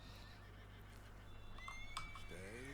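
A horse in Red Dead Redemption 2 gives a faint, brief neigh over a low background hum and soft game ambience, rising slightly near the end.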